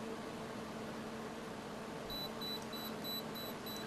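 After a quiet hiss, a rapid series of short, high-pitched electronic beeps begins from a camera's self-timer countdown, evenly spaced and faint.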